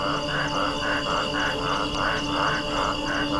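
Frogs croak in a steady chorus, a rhythmic pulsing call repeating about twice a second over a dense, constant background of other calling amphibians, with no voices.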